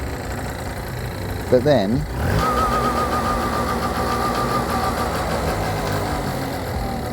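A cheap project scooter's small engine idles with a steady, slightly uneven putter, close and fairly loud, after a brief spoken phrase at the start.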